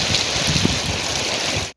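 Steady rain falls in Islamabad and Rawalpindi during winter weather, a dense even hiss of drops on surfaces, close and fairly loud, ending abruptly.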